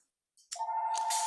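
A phone rings with an incoming call: a brief click, then a steady sustained electronic ring tone, close and clear, with no talking.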